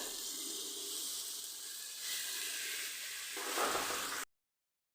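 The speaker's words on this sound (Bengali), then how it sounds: "এবার এর মধ্যে দিয়ে দেবো এই কেটে রাখা চিচিঙ্গাগুলো।" Chopped snake gourd tipped into a pan of sautéed turmeric and chilli powder, sizzling and hissing steadily up close before cutting off abruptly.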